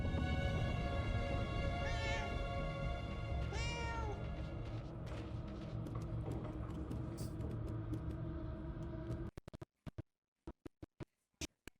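Several distinct cat meows rise and fall over a steady rumbling game soundscape with background music in Murdered: Soul Suspect. The bed cuts out abruptly near the end, followed by sparse sharp clicks.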